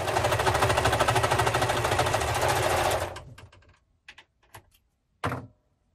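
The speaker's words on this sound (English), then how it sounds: "I'm just sewing up the two short ends of the neck band" A home sewing machine stitching the short ends of a sweater neck band runs in a steady, fast, close whir for about three seconds, then stops, followed by a few scattered clunks and clicks.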